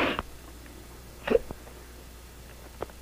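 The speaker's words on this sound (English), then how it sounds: "I got the hiccups." A person hiccups in a 1970s home scene: a sharp hiccup at the start, another about a second later, then fainter ones with quiet room tone between them and no talking.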